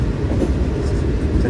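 The Pangandaran panoramic passenger train running on rails in Indonesia, heard from inside as a loud, steady low rumble with faint rhythmic rail clatter.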